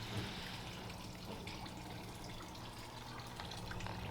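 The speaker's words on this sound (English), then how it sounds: "hose spouting water there. Still sounds nice" Water spouting steadily from a garden hose into a dried-up backyard waterfall feature, a continuous soft splashing hiss without pauses, heard alone at low volume.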